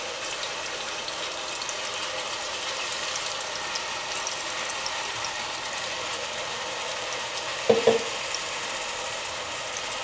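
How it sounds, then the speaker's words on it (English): Steady sizzling and crackling of blended ingredients, garlic and onion frying in a hot pan, continuous throughout, with a brief clatter near the end. "I have a frying pan going and I'm going to dump all my blended"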